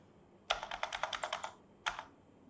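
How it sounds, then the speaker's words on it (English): Fingers type on a computer keyboard: a quick burst of about nine close, crisp key clicks, a short pause, then one more keystroke, in a quiet room. "let's type wood flooring here"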